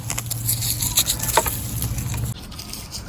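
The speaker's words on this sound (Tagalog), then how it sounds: "Ayun, umaambon na nga po ata." Light drizzle patters softly and steadily on a garden outdoors, with scattered faint ticks and drips and no voices.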